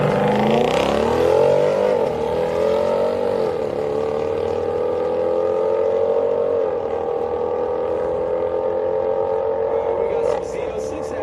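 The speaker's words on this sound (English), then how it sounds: "We got some Z06 action in left lane. These are the supercharged Corvettes. They are sick. They sound amazing." Supercharged Chevrolet Corvette Z06 race cars accelerate at a Houston Raceway Park street night. The loud, sustained engine roar rises and shifts in pitch, with faint voices beneath, before it tapers off near the end.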